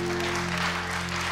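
Studio audience applause on a Turkish TV talk show, a dense, even wash of clapping that fills the whole short stretch, with a faint steady tone underneath.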